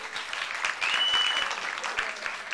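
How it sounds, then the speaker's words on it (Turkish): Audience applause on a Turkish television show studio, a moderate wash of clapping that swells slightly midway, fairly quiet and somewhat distant, with faint voices mixed in. "Bir alkış da onlara gönderelim."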